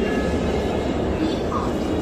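A Chengdu metro train pulls into a station platform with a loud, steady low rumble and rolling wheel noise that fills the short stretch, with faint crowd murmur beneath.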